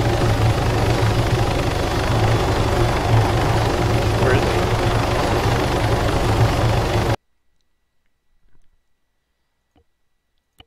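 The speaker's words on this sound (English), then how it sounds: "I spawned on the helicopter." A Huey helicopter in a video game roars with a loud, steady rotor and engine drone for about seven seconds, then cuts off abruptly, leaving near silence with a few faint clicks.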